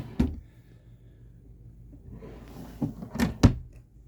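Storage drawers under the sofa of a 2022 Jayco Pinnacle camper slide and thump shut, with a soft knock at the start and a quick cluster of sharper knocks near the end, close by and quiet.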